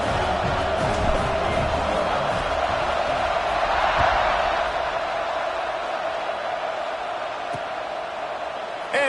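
A large stadium crowd in the video game College Football 26 roars in a sustained cheer that swells around the middle and then eases, with scattered whoops and a hint of voices.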